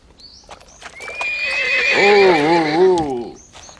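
A horse gives a long, loud whinny that rises and wavers before fading, with faint hoof clops around it.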